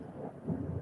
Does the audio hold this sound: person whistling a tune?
no